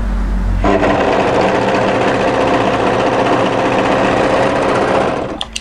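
Overlocker stitching the short edge of a hoodie cuff folded right sides together: a loud, fast mechanical whir starts abruptly, runs steadily for about five seconds, then stops with a couple of clicks.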